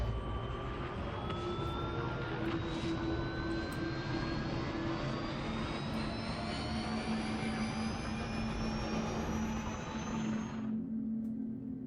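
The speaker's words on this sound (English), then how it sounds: "Listen to these engines, by the way." Spaceship engines of the Argo RAFT in the game Star Citizen: a steady, loud engine roar with a rising whine that climbs throughout, cutting off abruptly near the end and leaving quieter hum.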